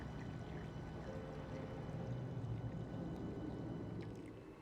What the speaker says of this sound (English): So we're gonna pour it, give it a taste when it cools down.